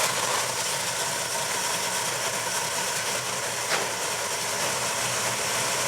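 A small-block Chevy engine fitted with a Holley carburetor idles in a steady, even drone that holds without change throughout, with no voices.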